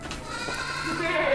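Black goat at a farm sale bleating amid steady livestock-pen noise, with someone talking over it throughout.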